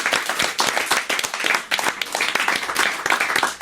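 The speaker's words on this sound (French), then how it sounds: "On vous applaudit." Studio audience applauding on a French television talk show, a lively burst of clapping with distinct individual claps audible in uneven rhythm, close and fairly loud, with no talk over it.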